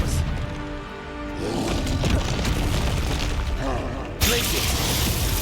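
An Expelliarmus spell is cast in Hogwarts Legacy on Xbox Series X: a rumbling magical whoosh with mechanical clatter builds to a sharp, loud burst near the end, with a voice partly heard.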